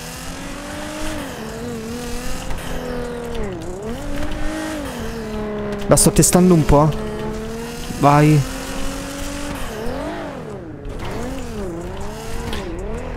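An unusual custom gang car in GTA 5 drives with a droning engine whose pitch rises and falls as it revs, with sharp tire squeals and someone talking throughout.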